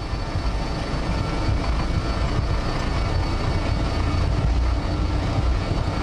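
A BAe 146-300 airliner rolling down the runway for takeoff with engines at full power, a loud, dense, continuous roar heard close from inside the cockpit, unbroken throughout.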